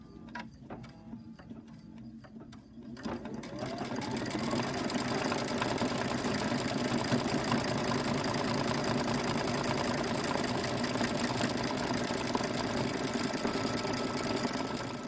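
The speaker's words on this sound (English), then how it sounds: "I'm actually sewing my label on now on my quilt" A sewing machine stitches a label onto a quilt. After a few seconds of quiet handling clicks, the motor starts up and then runs at a steady, close, rapid whirring rhythm.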